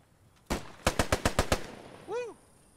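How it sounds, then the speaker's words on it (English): Sten submachine gun in a World War II shooter game: one loud shot, then a rapid burst of six close cracks, followed by a brief whooshing effect. "Use that Sten gun."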